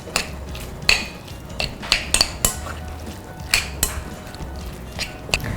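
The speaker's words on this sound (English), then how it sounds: "I'm giving everything another good mix." Spoon clinking against a bowl while mixing salmon and avocado filling with mustard, a series of irregular sharp metallic taps with soft scraping between them.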